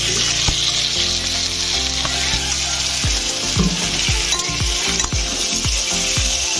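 Oil goes into a hot pan and sizzles steadily while amla pickle is prepared, a dense bright hiss running throughout with a few soft stirring knocks in the latter half; no voices.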